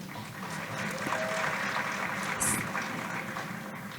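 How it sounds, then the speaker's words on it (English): Audience applause for student volunteers at a community cultural society event, a steady wash of clapping from a crowd in a reverberant hall, moderately loud and even throughout with little else over it. "So they definitely deserve a round of applause."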